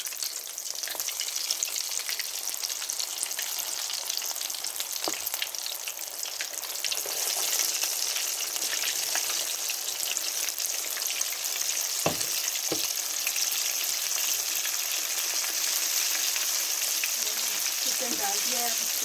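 Spicy coated chicken drumsticks fry in hot oil over a low flame, a dense, steady crackling sizzle close by with a few sharp pops and a brief stir, while someone talks faintly.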